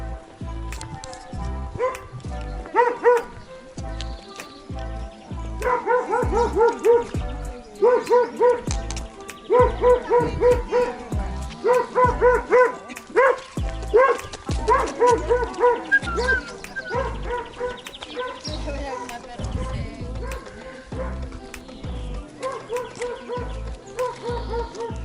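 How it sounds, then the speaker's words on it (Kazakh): Several dogs bark in a rapid, overlapping frenzy in the town of Pamukkale, Turkey, loud and close, in repeated bursts with short pauses over about twenty-five seconds. "Мына жақта иттер арпалыс үріп жатыр."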